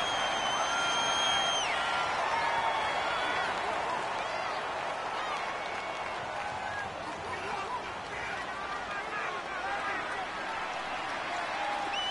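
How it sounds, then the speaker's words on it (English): Stadium crowd roar in a domed arena during a football video game broadcast, a steady, dense wash of cheering and noise held throughout, with commentary voices over it. "The crowd here in the Dome making things difficult."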